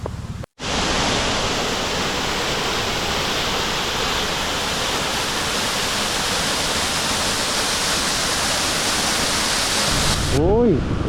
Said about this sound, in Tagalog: ang paglagaslas at pagbaba ng tubig mula sa itaas.